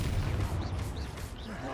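Confringo fire spell blasting in Hogwarts Legacy combat, heard as a dense, continuous rumble of explosive bursts with a few swooping whistles layered over it, loud and sustained throughout.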